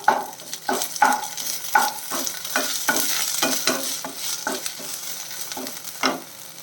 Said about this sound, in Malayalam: സവാള വന്നിട്ട് നല്ല രീതിയിൽ ഒന്ന് വഴറ്റിയെടുക്കണം